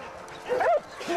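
A young, energetic dog gives a short whimpering yip and a brief bark-like cry, close and fairly quiet, with faint background sound around it.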